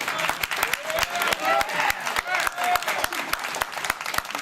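Audience clapping and applause at the Hopkins vs Murat boxing press conference, a dense crowd of sharp hand claps sustained throughout, with a voice speaking over it.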